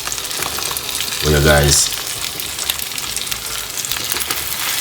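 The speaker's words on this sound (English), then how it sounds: "So let the fish go and fry in the meantime." Salmon pieces pan-fry with a steady close sizzle, a voice speaking briefly over the crackling hiss.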